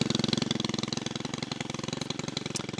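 A Stihl FS91 string trimmer engine idles steadily after a cold start, a loud, even, rapid putter running throughout with no voices.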